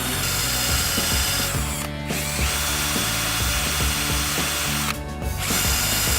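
A machine polisher works a scratch out of lacquered carbon fibre. It runs steadily and loudly throughout, with a rattling, mechanical texture and two brief dips where the pad lifts or turns.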